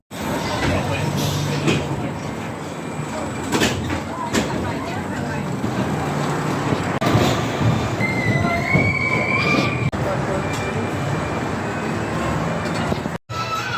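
Rattlesnake roller coaster trains at Chessington World of Adventures rattling and squealing along the track, with steady rumbling, metallic wheel screeches and clanks, and people talking in the background.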